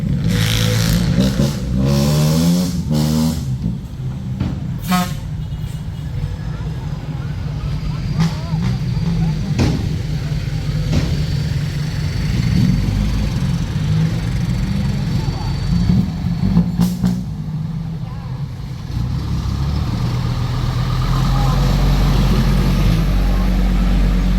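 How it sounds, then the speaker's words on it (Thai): A tractor engine drones steadily at low pitch for the whole stretch while hauling soil at a temple merit-making event, with occasional clatter and faint voices in the background. "ก็ช่างเดี่ยวก็ไปขับรถไถอีกแล้ว"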